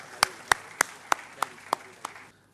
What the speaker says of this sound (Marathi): प्लीज दादा, जोरदार टाळ्या संजय गोविलकरांसाठी